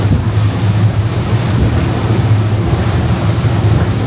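Open-sea waves wash around a sailboat about 50 miles offshore on a passage from Corfu to Sardinia, a loud continuous surge with heavy wind buffeting the microphone.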